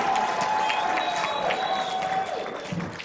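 Crowd applause at a political alliance launch rally, a dense, steady wash of clapping with some whistling tones that lasts the full three seconds before easing slightly at the end.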